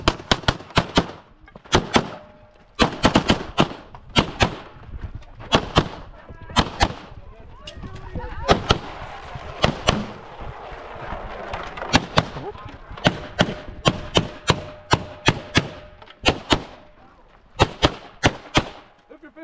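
Rapid strings of loud, sharp pistol shots from a Beretta 92XP on an outdoor jungle-run shooting course, fired in quick rhythmic bursts with brief pauses, close and punchy with echoing reports.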